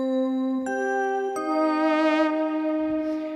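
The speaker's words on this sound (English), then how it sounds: "Let's try Noble Bell." A Hydrasynth Deluxe synthesizer plays its Noble Bell preset: two struck, ringing bell-like notes with bright shimmering overtones, the second starting about a second after the first and sustaining clearly with no talking.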